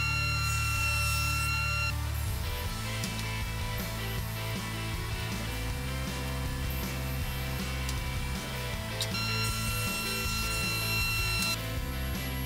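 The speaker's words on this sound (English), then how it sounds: "I milled it flat on one end and then got it all to the same thickness at the planer" Thickness planer milling maple and walnut lumber in a woodshop, a loud steady machine whine that ramps up as boards feed through, with higher cutting bursts near the start and end.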